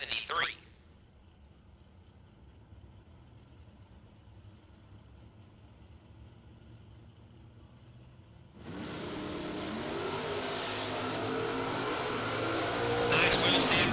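A drag racing car revs at a SuperBucks Showdown drag race. A faint, distant engine hum gives way to a loud, sustained roar that keeps building toward the end, with voices running under it.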